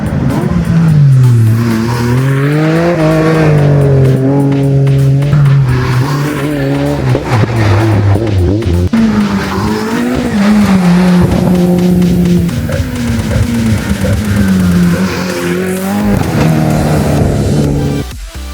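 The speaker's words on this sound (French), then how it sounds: "ce que vous voyez actuellement, c'est le passage des voitures durant la journée à mon poste 3" Race cars at a slalom race roar past one after another, loud engines rising and falling in pitch with gear changes and revving, some tire squeal, heard close by from a marshal post with no talk.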